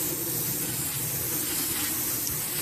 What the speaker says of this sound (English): I'm spraying leaves and everything, really.